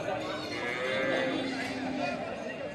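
A medium-sized bull at a livestock market in Chuadanga, lowing in a long, drawn-out moo close by against a murmur of market noise.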